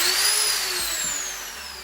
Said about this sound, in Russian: Перфоратор – это вообще мой любимый инструмент.